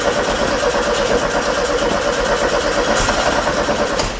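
A VW Beetle convertible that has stood unused for a long time cranks and fires up. A loud, steady mechanical engine rumble runs throughout, close and alone with no talk.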